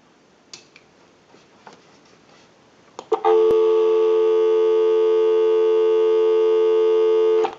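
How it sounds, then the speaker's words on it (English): A Northern Electric three-slot payphone line gives a dial tone. A few faint clicks and handling sounds come first, then a loud, steady, unbroken tone that holds for about four seconds. "Go ahead and give you some dial tone."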